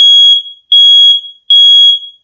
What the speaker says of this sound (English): There goes the alarm. I told you that alarm was going to go off.